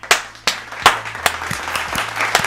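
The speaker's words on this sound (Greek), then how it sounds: "Πάμε ένα χειροκρότημα." A few people clap in a small studio setting, sharp close-up claps at irregular intervals with scattered softer clapping between them.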